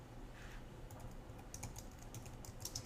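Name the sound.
typing HTML code on a computer keyboard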